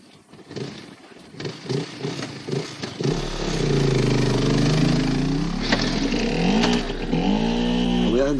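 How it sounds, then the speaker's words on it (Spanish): Motorcycle engine from a 1988 Spanish film scene, starting with sputtering pops and then settling into a loud, sustained rumbling drone that rises in pitch near the end, heard close up without speech. "Le sigue Manolo en la moto."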